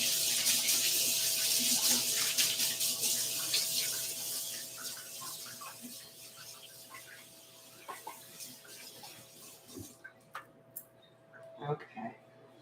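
Hands rinsed under a running kitchen tap, a steady stream of water that gradually fades, followed by scattered splashes and drips with faint clinks. A steady hum sits underneath throughout.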